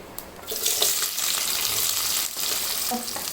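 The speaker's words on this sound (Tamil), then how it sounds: "கொத்தமல்லி, பச்சை மிளகாய், கருவேப்பிலை இது எல்லாமே இப்போ எண்ணெயில் சேர்த்துக்குவோம்" Shallots, green chillies, coriander and curry leaves fry in hot oil for a goat blood poriyal, giving a close, steady crackling sizzle with light stirring noises and no talking.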